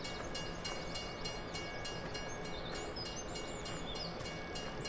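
A train in a PS4 video game rumbles along faintly and steadily, with light rhythmic clicking and a soft high horn-like tone, no voices.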